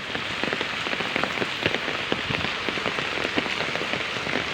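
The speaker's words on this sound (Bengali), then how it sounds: "প্রচুর বৃষ্টি, প্রচুর" Heavy rain pours down during a cyclone, a dense steady hiss with countless close, sharp drops pattering on surfaces, loud and continuous with no voices.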